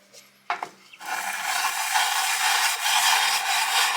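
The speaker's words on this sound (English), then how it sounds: "It's called French polishing. When you do the figure 8 thing." A Melling M55 Chevy oil pump part is rubbed in a figure-8 motion across a flat abrasive surface, a close, steady gritty scraping that starts after a couple of brief knocks and continues without pause.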